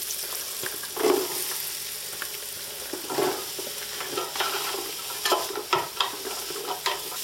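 Chopped onions sweat in a pot, a steady soft sizzle with occasional stirring scrapes and clinks close by, with no one talking.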